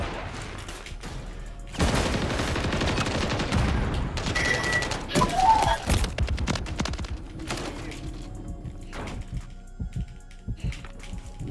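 Rapid bursts of gunfire from Call of Duty Modern Warfare 3 Search and Destroy, loud sustained volleys in the first half, then sparser shots and clicks trailing off.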